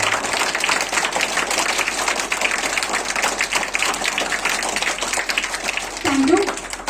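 Audience applause and clapping for school champions at a school ceremony, a steady dense wash of claps running throughout at moderate loudness, with a brief voice near the end.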